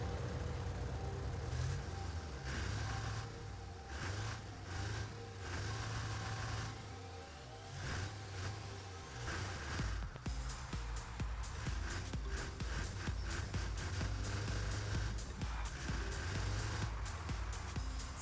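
Tow truck engine in the video game Car Parking Multiplayer, a droning idle that rises into repeated revving, growing busier and louder in the second half, with no voices.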